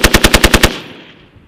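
A military machine gun fires one loud, close burst of about seven evenly spaced shots during a war-games exercise, then the sound rings out and fades over the following second.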